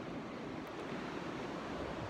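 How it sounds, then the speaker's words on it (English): Wind buffets the microphone beside a beach as waves wash in, a steady low roar and hiss that stays fairly faint and constant with no voices. "right by the beach, so it's a little windy"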